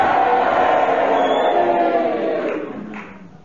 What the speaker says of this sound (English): If you agree with Kenneth Williams, would you cheer for him? If you agree with Magnus Pike, would you boo for him?